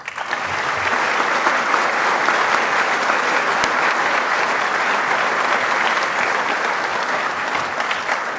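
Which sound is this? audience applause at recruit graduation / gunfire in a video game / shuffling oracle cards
audience applause at recruit graduation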